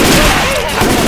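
Rapid gunfire in Left 4 Dead 2 on the Black Mesa Undertow map, a dense continuous barrage of shots mixed with game noise and a voice talking over it.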